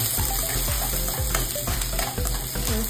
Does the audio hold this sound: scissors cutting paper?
no